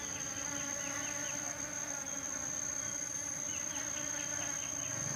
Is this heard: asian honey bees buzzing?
yes